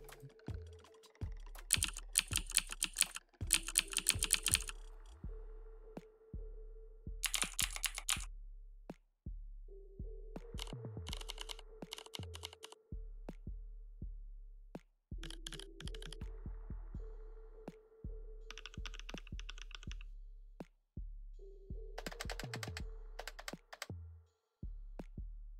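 Long run of clattering typewriter-like key presses, coming in fast bursts separated by brief pauses, each stroke sharp with a soft thud underneath, close up.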